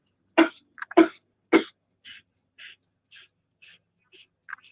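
Three sharp coughs in quick succession during a kundalini deep-breathing exercise, followed by a string of soft, faint breathy puffs spaced about half a second apart.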